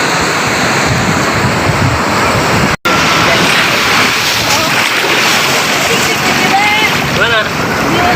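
Ocean waves washing in at a beach, a loud, steady rushing surf with wind buffeting the microphone, briefly cut out near the middle.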